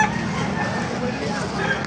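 Chickens and roosters at a poultry market in Baliuag, Bulacan, clucking in a dense, continuous crowd din with voices mixed throughout.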